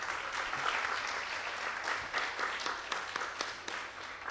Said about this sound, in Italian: un applauso anche a lei direi